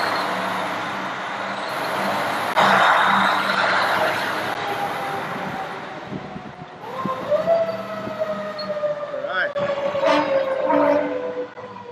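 A fire engine leaving Kootenai County Fire & Rescue Station 1 sounds its siren, starting with a loud air-horn blast and then rising, wailing tones that sweep up and down close by, over rumbling engine noise.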